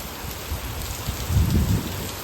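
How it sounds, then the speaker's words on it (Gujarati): Heavy monsoon rain pours down in a dense, steady wash of noise that swells briefly louder midway, close and continuous with no voices. "બાજે વરસાદ બહુ આવે છે હો"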